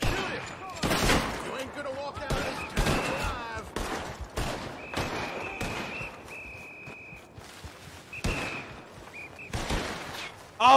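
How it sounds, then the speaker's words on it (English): Bursts of gunfire in the video game Red Dead Redemption 2 crack out repeatedly, some rapid volleys and single shots, mixed with shouting voices and a sustained whistling tone. "They heard the gunshots."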